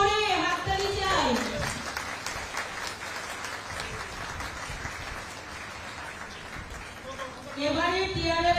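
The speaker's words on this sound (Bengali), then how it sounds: "খুব জোরে হাততালি চাই।" Applause from an audience at an outdoor stage event in Tripura, clapping filling the middle of the clip while a voice speaks over it at the start and again at the end.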